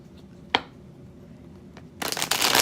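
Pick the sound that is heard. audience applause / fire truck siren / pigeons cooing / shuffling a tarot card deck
shuffling a tarot card deck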